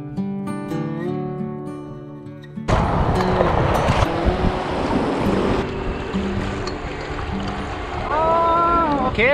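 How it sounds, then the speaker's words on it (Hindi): Loud, continuous roar of churning river rapids on the Ganges near Rishikesh during a rafting run, surging after an opening passage of music and sustained throughout, with faint shouting mixed in. "खतरनाक लहरें आ गई।"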